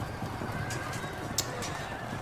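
Cavalry horses whinny during a charge in the video game Field of Glory 2, the neighs rising over a dense, continuous roar of battle noise and hoofbeats.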